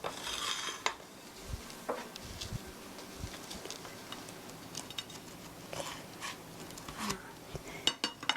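Cheese-topped hamburger steak being plated in a home kitchen, with scattered clinks and scrapes of utensils on dishes and a pan, some louder knocks among quieter handling noise, close by and intermittent.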